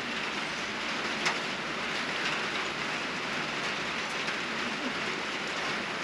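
Heavy rain pours down in a steady, dense hiss that stays even and unbroken throughout, with only faint scattered ticks on top and no voices.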